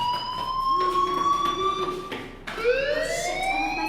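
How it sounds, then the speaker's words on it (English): A fire alarm ringing in the video game Life Is Strange, a loud electronic siren-like tone with clear sustained pitches that waver and then restart at a higher sweep partway through. "Do you hear that fire alarm?"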